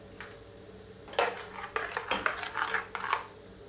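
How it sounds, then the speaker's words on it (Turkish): Broth from a homemade sour tomato and noodle yogurt soup is ladled into a yogurt mixture, heard as a series of close clinks of a metal ladle and spoon against a bowl, in irregular bursts. "şu çorbanın suyundan biraz yoğurtlu karışıma ilave ediyorum"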